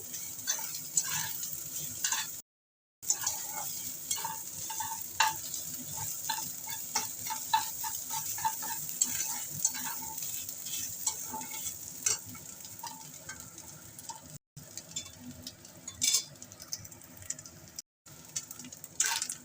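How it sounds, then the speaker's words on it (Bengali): Grated coconut frying in a pan with green chillies, a soft continuous sizzle broken by frequent light stirring taps and scrapes, fairly quiet, with no talk. "আর দিয়ে দিচ্ছি নারকেল কোড়া। নারকেলটাকে ভালো করে ভেজে নেব।"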